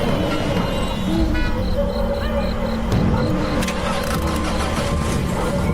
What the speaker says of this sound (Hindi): गाड़ी अब चल पड़ती है।